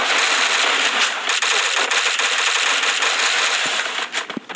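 Dense, continuous automatic gunfire in the Free Fire Clash Squad mobile game, loud and close, rattling without pause for several seconds before thinning into a few scattered clicks and pops.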